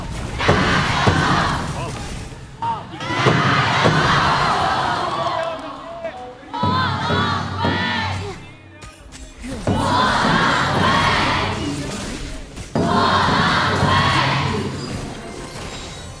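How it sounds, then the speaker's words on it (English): Esports fans at the KPL Grand Finals roar and chant for their teams in a large arena in loud crowd bursts that swell and break off repeatedly, with rhythmic shouting and some talk mixed in. "So let's hear the fans cheer for their teams."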